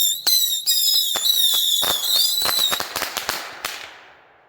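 Dozens of bottle rockets fired in quick succession from a launch pad, a rapid run of sharp whistling shrieks and crackling pops, loud and close, thinning out and fading toward the end.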